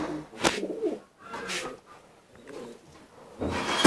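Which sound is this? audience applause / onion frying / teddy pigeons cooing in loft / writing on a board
teddy pigeons cooing in loft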